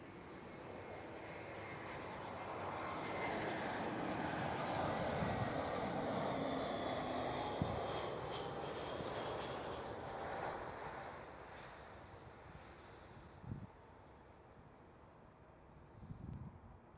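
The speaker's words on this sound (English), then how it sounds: "Next one up, Vueling A320." A Vueling Airbus A320 airliner at Amsterdam Schiphol airport rumbles past, its jet roar swelling, holding strong, then slowly fading into the distance, with a few small knocks near the end.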